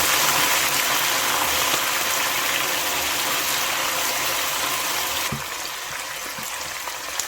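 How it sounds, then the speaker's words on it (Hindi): Water poured into browned onions in a pan for matar paneer, a steady sizzling hiss that fills the clip, loud and close, easing slightly near the end with no talk. "अब इसमें थोड़ा सा पानी का ऐड कर देंगे, 1 से 2 टेबल स्पून के करीब, ताकि प्याज अपना और कलर चेंज नहीं करे।"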